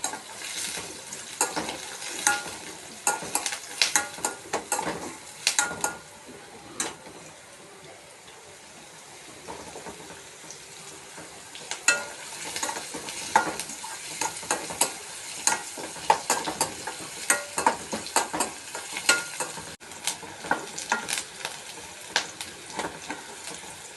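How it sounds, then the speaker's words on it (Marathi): Sliced onion and curry leaves sauté in oil in a pan, with a steady crackling sizzle broken by repeated scraping stirs of a spatula throughout. "कांदा आणि कढीपत्ता कांदा थोडासा परतून घेऊया"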